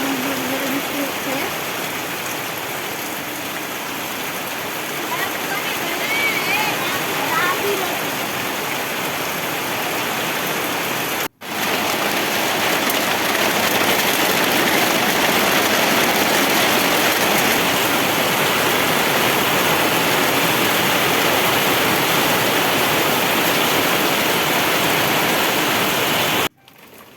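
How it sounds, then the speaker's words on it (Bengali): Heavy rain falling in a village, a dense, steady roar of downpour close by that continues without letup, with a brief cut partway through. "এখন কিন্তু অনেক ধরে ধরে বৃষ্টি হচ্ছে।"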